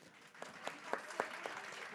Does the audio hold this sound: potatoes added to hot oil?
no